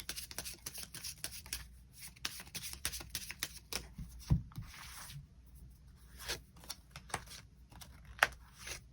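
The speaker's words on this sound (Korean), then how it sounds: "카드 뽑아보도록 하겠습니다." Tarot cards being shuffled and drawn by hand, a steady run of soft papery riffles, slides and taps up close, with brief pauses and no talk.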